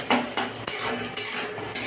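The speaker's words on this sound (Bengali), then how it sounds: "শুধু গোলমরিচ আর নুন দিয়ে ভাজা ভাজা করে নিচ্ছি" A metal utensil scrapes and knocks against a pan while egg fries with pepper and salt. Five sharp clinks come at roughly even intervals over a soft, low sizzle, close and without talk.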